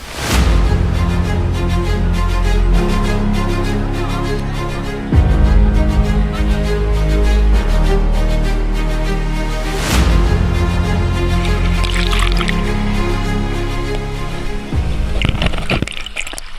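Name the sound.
waterfall water with people bathing, Sahibganj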